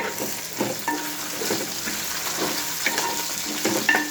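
Green chillies frying in a pan for a chutney, with a steady soft sizzle, scraping stirs and a few light utensil clinks on metal, close up and with no talking.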